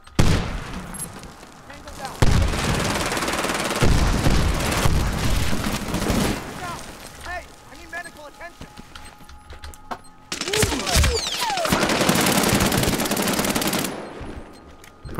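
Sustained automatic gunfire and scattered shots rattle through an online Medal of Honor: Warfighter multiplayer match, loud bursts broken by brief lulls, with players talking over the action.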